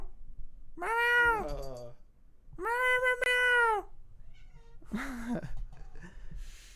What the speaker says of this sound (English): Cat, say something. Meow.